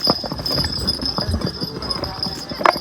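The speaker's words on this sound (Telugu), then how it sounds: "మంచు పక్కన గుర్రంతో పోతున్నాం" Horse hooves clip-clop in a steady walking rhythm on a mountain trail beside snow near Baisaran valley, Pahalgam, Kashmir, close and moderately loud, with faint voices and a sharp knock near the end.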